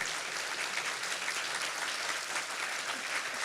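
Steady applause from a church congregation at a Spanish-language sermon, a dense even wash of clapping with no breaks, filling the room at moderate loudness throughout.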